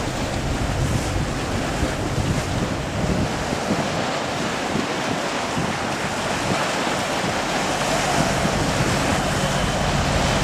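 Strong wind and breaking waves surge steadily around a brightly painted fishing net boat heading out to sea, a loud, continuous roar of surf and gusting wind buffeting the microphone, with no voices.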